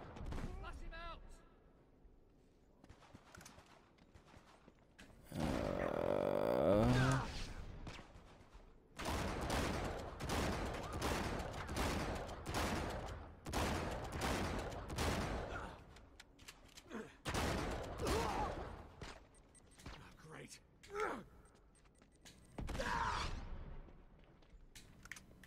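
Bursts of gunfire and booming combat from the video game Uncharted 3: Drake's Deception, recurring through the stretch with a person talking over much of it.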